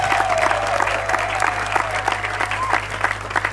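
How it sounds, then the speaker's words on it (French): A church congregation applauds together at an opening Mass during an evangelisation campaign in Franceville, a sustained bed of clapping with a low steady hum beneath and some voices mixed in. "Je voudrais qu'on applaudisse pour tous ceux qui sont présents."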